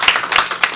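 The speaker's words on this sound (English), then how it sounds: "Can you give yourselves a round of applause?" A room full of people applauding together, a brief burst of dense, close clapping with a few sharper claps standing out.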